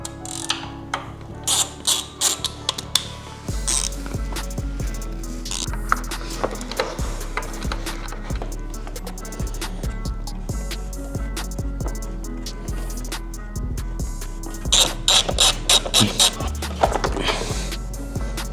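Tool clicking and ratcheting as a bolt is turned on the rearsets of a Ducati Panigale V2 during a Bonamici rearset install, with steady close mechanical clicks and metallic ticks over about eighteen seconds and no talking.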